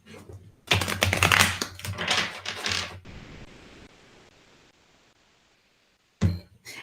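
Cards are shuffled in a quick burst of riffling and clattering, then fade to quiet before another short shuffle at the end.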